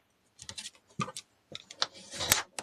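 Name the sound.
folding and burnishing cardstock pop-up pieces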